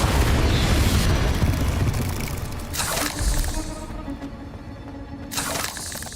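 In Hogwarts Legacy, a Confringo blasting spell erupts in a heavy, loud boom that rumbles for seconds, followed by two further shattering bursts as the explosion breaks up nearby objects.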